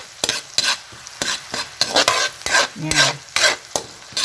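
Garlic and onion frying in a pan for veggie fried rice, with a rhythmic series of sharp scraping stirs over a steady sizzle, close and clear, plus a brief spoken word.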